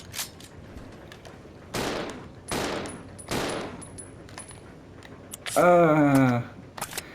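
Gunfire in the Resident Evil 0 video game: three sharp shots spaced about a second apart, then a quick cluster, with game sounds and a person talking faintly in the background.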